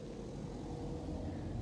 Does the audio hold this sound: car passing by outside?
yes